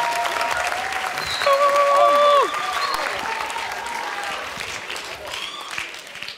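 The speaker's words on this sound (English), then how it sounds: "Give them a warm applause." Steady audience applause at a science seminar for young scientists, sustained at moderate loudness with a brief tonal sound and some voices mixed in, then fading slightly.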